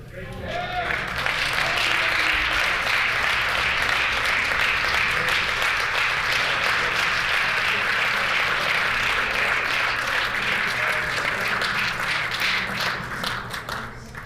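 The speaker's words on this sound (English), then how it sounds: "that is not worth an applause" Sustained applause from visitors in the public gallery of a legislative chamber, dense clapping that swells quickly and holds strong before tapering slightly at the end.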